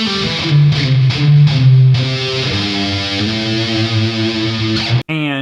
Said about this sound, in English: Let's go into lead tones and show you guys what that sounds like.